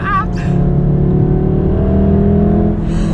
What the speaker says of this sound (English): It's put in race mode, so you get a little bit more fun noise.